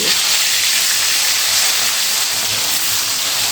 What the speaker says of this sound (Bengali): এই মাছগুলো কিন্তু আমি উল্টে পাল্টে খুব ভালো করে ভেজে নিয়েছি